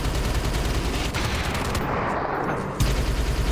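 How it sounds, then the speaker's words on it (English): Gunfire in the VR game Trails of Alterna, a rapid stream of shots rattling continuously at close range with a brief lull, then resuming loudly. "They're shooting into the floor."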